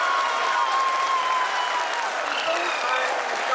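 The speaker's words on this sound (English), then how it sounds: "People are applauding." A large audience at an Indian space agency event applauds in a steady, dense wash of clapping, with a voice speaking over it.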